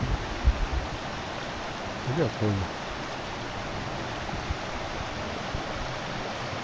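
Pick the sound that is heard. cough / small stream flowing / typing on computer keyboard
small stream flowing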